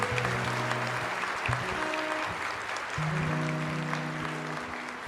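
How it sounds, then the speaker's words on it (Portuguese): A church congregation applauds loudly in praise, dense continuous clapping from many people under sustained keyboard chords, steady and strong throughout the five seconds. "Vamos aplaudir esse Deus maravilhoso. Aplaude com força."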